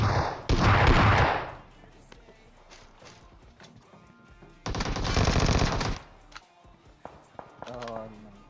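Automatic gunfire from a cheap gun in the mobile battle-royale game PUBG Mobile, two loud sustained bursts separated by quieter footsteps and game ambience.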